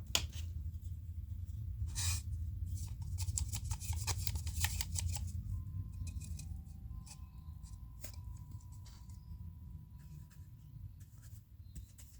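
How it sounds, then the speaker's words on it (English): A paintbrush smooths thinned paint across a canvas being prepared for dotting, giving faint, close, soft scratchy strokes in a quick run that slows and fades toward the end, with no talk. "with the brush, just end up smoothing it out with the brush"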